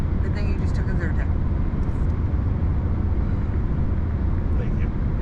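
A car towing a trailer loaded with ProCharger parts rolls down the road. A loud, steady low road and engine rumble fills the cabin without a break, and people talk over it.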